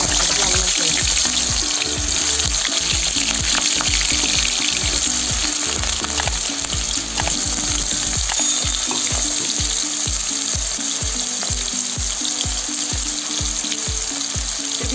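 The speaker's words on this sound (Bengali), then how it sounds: "তেলটা গরম হয়ে গেছে আলু কড়া ভেজে নেব" Potatoes fry in hot oil in a kadai for a hotel-style aloo baingan, a steady loud sizzle with a regular stirring or scraping rhythm throughout.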